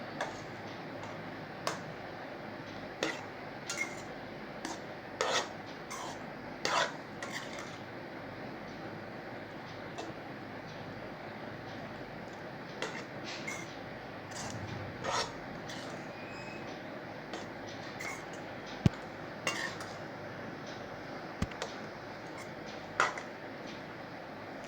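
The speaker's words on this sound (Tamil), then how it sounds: "இந்த மிக்ஸ்சர் எல்லாம் நல்லா கலந்து நல்லா ஹீட் ஆகி வரணும்." Egg mixture and rice are turned together in a pan for egg fried rice, with a spatula making repeated light ticking clicks and scrapes at an uneven pace, close and fairly quiet over a low background.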